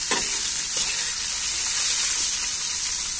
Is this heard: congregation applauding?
no